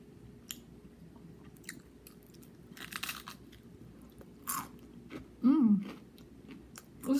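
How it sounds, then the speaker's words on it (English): Crunchy Jollibee fast food is bitten and chewed close to the mic, with scattered crisp crunches and soft mouth sounds building to louder bites near the end. "Listen to that crunchiness."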